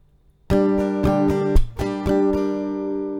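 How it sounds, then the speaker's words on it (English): An acoustic guitar strums a steady pattern, its chords broken by a sharp percussive slap on the body partway through, played up close with no voices. "So down, up, clap, up, down, up."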